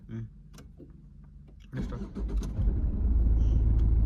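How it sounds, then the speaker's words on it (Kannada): A car engine rumbles as a first-time driver gets the vehicle moving, starting with scattered clicks and light mechanical sounds, then rising into a loud, steady low drone for the last half. "ಫಸ್ಟ್ ಟೈಮ್ ಗಾಡಿ ಹೊಡೆಯಕತ್ತೀನಿ"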